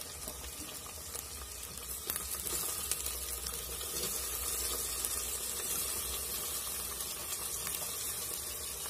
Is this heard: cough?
no